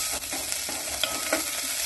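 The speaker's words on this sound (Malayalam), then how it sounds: "1 ടീസ്പൂൺ ഇഞ്ചി ഗ്രേറ്റ് ചെയ്തതും 1 പച്ചമുളക് മുറിച്ചതും ചേർത്ത് വഴറ്റാം" Grated ginger and chopped green chili being sautéed in a pan for a millet pulao, a soft steady sizzle with scraping stirring strokes against the pan.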